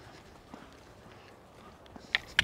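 A horse lopes under a rider using a sidepull hackamore, soft rhythmic hoofbeats building from faint thuds to a few sharper, louder strikes near the end, with a quiet outdoor background.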